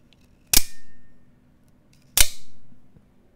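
Two sharp, loud mechanical snaps from a grey Microtech Cypher MK7 out-the-front automatic knife as the blade fires, about one and a half seconds apart, each ringing briefly before quiet.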